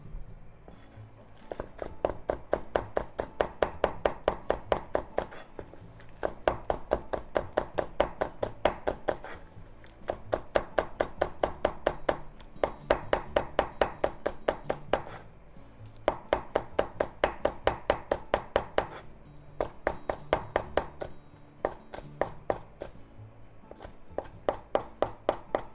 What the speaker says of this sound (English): And just make thin slices.